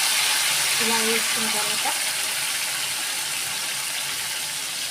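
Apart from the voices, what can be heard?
chicken curry frying in hot oil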